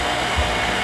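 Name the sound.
loud Shopsmith woodworking machine running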